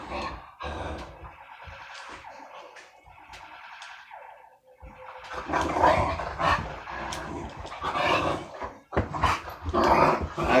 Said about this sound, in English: Been joined by the dogs again.